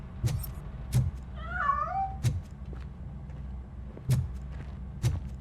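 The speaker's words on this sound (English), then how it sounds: "That cat must be hiding inside." A cat meows once, a short rising-and-falling cry, amid repeated dull thuds and footsteps in the RoboCop: Rogue City video game.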